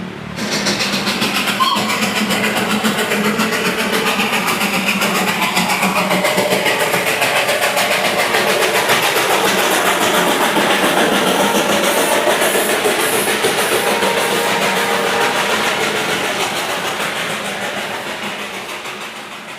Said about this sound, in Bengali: তা দেখা পেয়ে গেলাম এই মনেস্ট্রির সামনে দার্জিলিংয়ের টয় ট্রেন